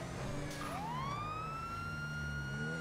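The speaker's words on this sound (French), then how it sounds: "pour le bureau de vote on va mettre les sirènes" Police car siren in the GTA video game, a loud wailing tone that sweeps upward and then holds high, steady and alone for a few seconds.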